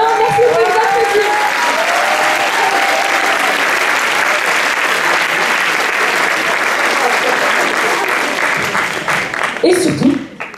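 Theatre audience applauding at a school drama club performance, dense and loud steady clapping from start to finish, with brief voices and cheers over it before it tapers at the end.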